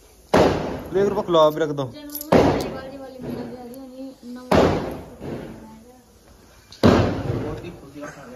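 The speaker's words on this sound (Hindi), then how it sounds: "बड़े पटाखे पटकाए जा रहे हैं।" Diwali firecrackers burst at home in four loud, sharp bangs spaced about two seconds apart, each followed by a short rattling tail, while people talk between the blasts.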